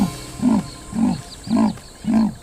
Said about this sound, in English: That's called rasping. It's one of the only sounds leopards make.